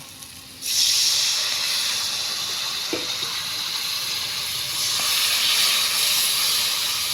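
Water poured into spice paste frying in oil for a Bengali prawn curry with potato and pointed gourd gives a steady, bright hiss that sets in abruptly, holds loud and even, and swells again toward the end, with no talking.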